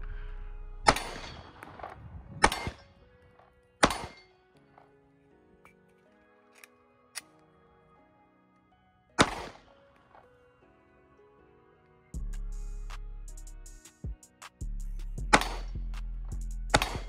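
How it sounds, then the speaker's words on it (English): Several sharp, loud Glock 19x pistol gunshots ring out one at a time with pauses between them, followed later by sustained low rumbling and clatter. "But we finna put a couple shots up real quick."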